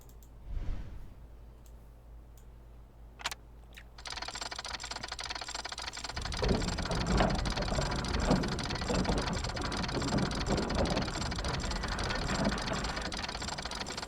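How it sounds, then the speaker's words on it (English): Mechanical cranks turning in the puzzle game The House of Da Vinci 2, a dense ratcheting, grinding clatter of gears that starts abruptly after a few quiet clicks and runs steadily to the end. "It begins. The cranks."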